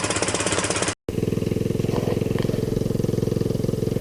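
A 150cc GY6 Hammerhead clone scooter-type engine with a flooding carburetor idles close by with a fast, even, chugging pulse, briefly cut off and then going on steadily with no talk over it.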